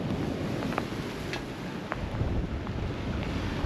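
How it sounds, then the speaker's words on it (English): Steady wind rushes across the deck of a Hallberg Rassy 44 sailboat in about 18 knots on the cold, wet North Sea near the German Bight, a constant broadband roar with faint water noise and no talk. "out here it is cold and wet. 18 knots true wind."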